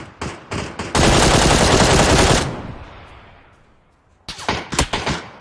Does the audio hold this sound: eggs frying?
no